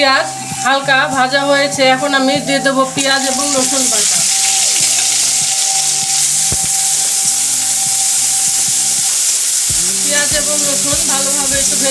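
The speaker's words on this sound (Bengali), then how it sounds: "পেঁয়াজ এবং রসুন বাটা পেঁয়াজ এবং রসুন ভালোভাবে একটু ভেজে" Onion and garlic paste frying in a pan with lightly fried onions gives a steady, close sizzle with stirring clatter; a voice talks over it at first, then the hiss carries on alone.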